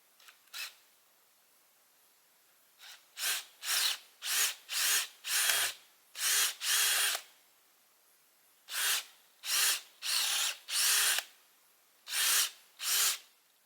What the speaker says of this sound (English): I can see if we can make a good straight drill hole here